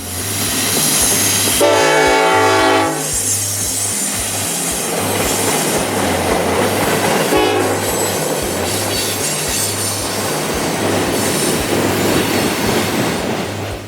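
A heavy train rumbles past up close, steady and loud, with a low rhythmic clatter of wheels and a brief high squeal of metal near the start.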